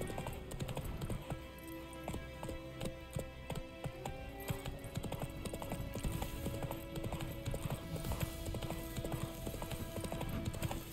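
Horse hooves clip-clopping at a steady riding pace in The Witcher 3 video game, continuous and fairly loud over a layer of game music and ambience.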